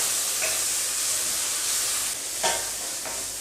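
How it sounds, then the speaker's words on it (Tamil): Tomato and small onions frying in a pan with curry leaves, a soft steady sizzle with faint stirring scrapes, close and quiet. "தக்காளி பழம் சேர்த்துட்டு நல்லா வதக்கிடலாம்"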